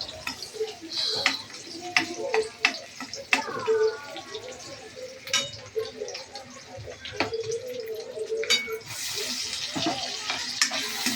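Onion, tomato, cumin and salt frying in oil in a home kitchen pan, with steady sizzling and repeated scraping stirs and clinks throughout, under intermittent talk.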